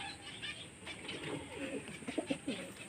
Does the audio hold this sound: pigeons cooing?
yes